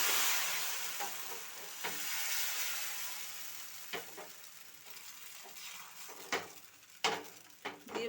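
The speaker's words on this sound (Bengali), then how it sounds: "আবারও এক হাতা ব্যাটার প্যানে দিয়ে দেব।" Rice flour batter for soru chakli pitha sizzles in a hot pan, a steady frying hiss that slowly fades, broken by sharp clicks and scrapes of a ladle against the pan.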